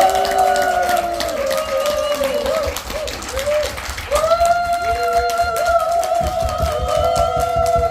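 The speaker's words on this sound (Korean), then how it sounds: "큰 박수로 여러분 환영해주세요" Applause and crowd noise rise from an audience while music with sustained tones plays loudly over it.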